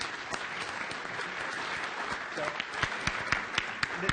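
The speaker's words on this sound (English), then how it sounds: "Can I have a round of applause for Nathanael?" An audience at a conference introduction gives a round of applause, steady dense clapping throughout with a few louder individual claps toward the end.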